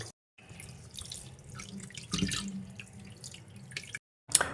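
Tap water runs steadily over rice and lentils being washed in a kitchen sink, a continuous splashing rush with brief gaps and a louder surge midway, no voices.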